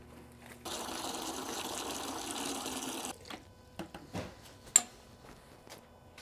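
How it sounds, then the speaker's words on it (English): Water gushes into a 240-gallon aquarium in a steady, rushing stream for about two and a half seconds, then cuts off, leaving scattered faint knocks and clicks. "then we're gonna fill it up with water and turn everything on"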